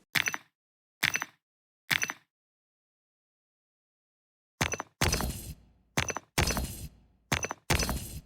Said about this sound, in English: This was the glass-like layer that I wanted, and all I had to do now was just stack it on top of the vanilla block mining sound.